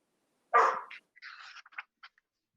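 A dog barks once loudly at close range, followed by a few shorter, softer yips and whines in a brief burst, with no talking around it.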